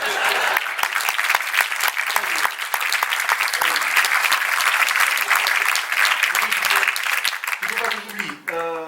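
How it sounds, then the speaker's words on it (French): Sustained audience applause fills a comedy show venue, loud and dense for several seconds before fading, with a voice emerging at the end. "des fois quand je remonte, les gens les applaudissent, mais c'est pas une obligation."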